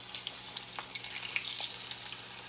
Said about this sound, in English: You typically fry the salami